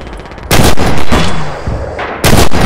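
Heavy gunfire from an anti-tank rifle in the WWII shooter Red Orchestra 2, with sharp loud blasts at about half a second and again near the end, a rumbling battlefield tail between them and no talk.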